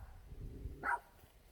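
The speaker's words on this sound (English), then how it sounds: "She's barking at a car that's driving by." A pet dog named Freya gives a single short bark outdoors in a garden, moderately close and standing out against low background rumble.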